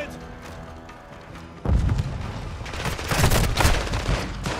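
In Call of Duty: Modern Warfare II, background rumble and chatter give way to a sudden loud grenade blast, followed by rolling booms and bursts of gunfire for the remaining seconds.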